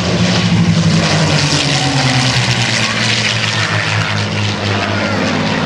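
A P-51 Mustang with a Rolls-Royce Merlin engine flies past at the 2010 NAS Oceana airshow, its propeller engine a loud, steady, throbbing drone that dominates the whole stretch.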